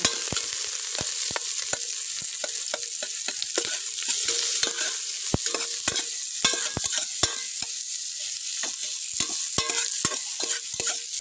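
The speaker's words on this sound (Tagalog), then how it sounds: "May laso na, may sibuyas, may ginger or luya. Igigisa natin." Garlic, onion and ginger sautéing in a pan while mud crabs are cooked, heard as a bright, continuous sizzle with repeated sharp clicks and scrapes from stirring, close and loud with no talking.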